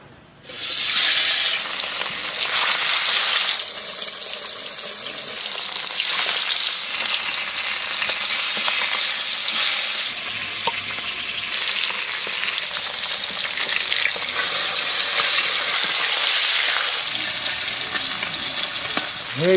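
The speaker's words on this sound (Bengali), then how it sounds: "তেল গরম হয়ে গেছে, মাছ দিয়ে দেবো।" Japanese puti fish fry in hot mustard oil with a loud, sustained crackling sizzle that swells and eases as the pieces are stirred, close and uninterrupted by talk.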